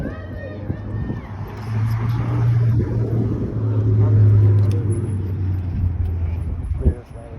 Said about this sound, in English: There's Lamborghini coming across.